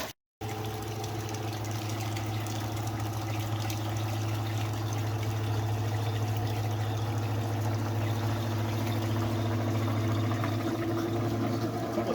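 A pump flushes water out of a hot water heater tank, giving a steady, continuous motor drone with rushing, pouring water layered over it, unbroken and fairly close.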